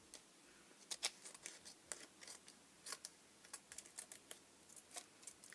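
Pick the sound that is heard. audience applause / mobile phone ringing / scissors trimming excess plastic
scissors trimming excess plastic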